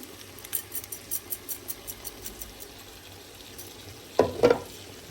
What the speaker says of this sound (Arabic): هسه اخبطهم كل زين لحد ما تحمس الطماطم